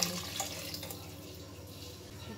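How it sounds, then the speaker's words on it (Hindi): Water being poured into a pot of rice for matar pulao, a faint continuous trickle and splash heard quietly with low background hum. "तो पानी हमने डाल दिए,"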